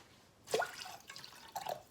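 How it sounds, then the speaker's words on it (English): Filtered water poured from a Berkey into a measuring cup in a kitchen, a short quiet splash followed by a second brief pour and trickle, fairly close and soft. "get 1 and just under 1 cup of water in this measuring cup"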